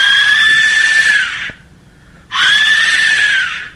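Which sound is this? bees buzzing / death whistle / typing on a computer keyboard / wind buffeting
death whistle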